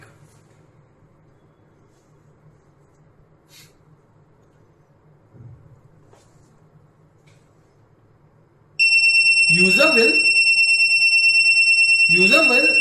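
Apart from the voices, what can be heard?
loud beep from water tank alarm receiver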